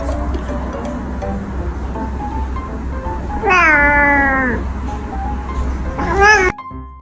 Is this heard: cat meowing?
yes